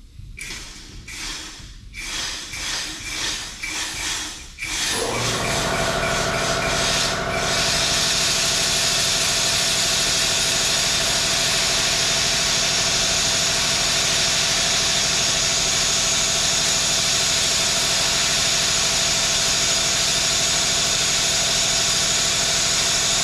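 A shop air compressor starts up and runs steadily as a loud, continuous broadband hiss and hum, following a few seconds of irregular rubbing and clattering near a hot rod being prepared for drag racing.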